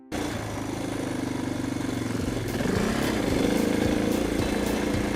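A DR dirt bike engine runs steadily while riding, a close, buzzing drone that rises slightly in pitch and intensity partway through as the rider accelerates.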